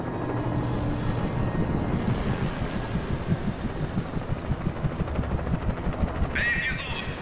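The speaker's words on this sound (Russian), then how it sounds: "О, вертушка. Теперь я точно ее слышу." In the game Alan Wake, a helicopter flies overhead with a loud, steady rhythmic rotor throb. It continues throughout with no speech over it.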